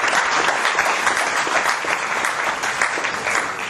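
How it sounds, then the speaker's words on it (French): A large audience at an academy event gives the teachers steady, dense applause that fills the room and stays loud and even throughout. "applaudissements pour les enseignants"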